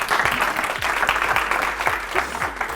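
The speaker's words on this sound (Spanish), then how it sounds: "Un fuerte aplauso, Luis" A school show audience claps loudly for a contestant named Luis, a thick continuous burst of applause with a few sharp low thumps standing out, close and sustained throughout.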